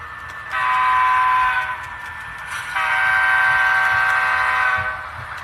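A short CSX coal train passes on the inside main line and gives two long, loud horn blasts with a brief gap between them. A low rail rumble continues underneath, and no one speaks.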